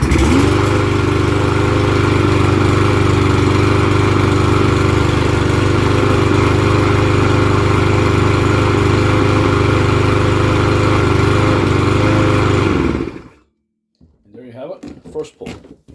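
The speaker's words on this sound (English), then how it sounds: "First start up and run of the Bilt lawnmower." A Troy-Bilt lawn mower with an easy-start engine fires up and runs loud and steady close by for about thirteen seconds, then cuts off abruptly, leaving faint rustling.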